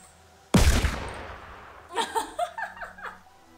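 A single sharp gunshot in a video game, loud and close, decaying quickly, followed by a few short voice bursts.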